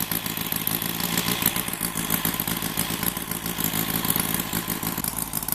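An OS IL300 converted engine idles steadily at close range, a loud, even, rapid mechanical chatter that holds a constant pace throughout with no voices.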